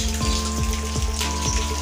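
Steady rainfall patters continuously over a constant hum, with faint rhythmic clicks, as a turtledove is bathed in the rain.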